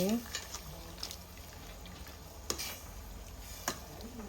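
Faint bubbling and simmering of water boiling in a pot of Thai pork leg curry, steady and low, with a few sharp clinks of a utensil.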